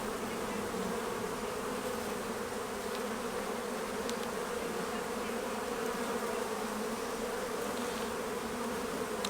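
Honeybees hum in a continuous, dense buzz during a weekly hive inspection, close and steady throughout, with no talk.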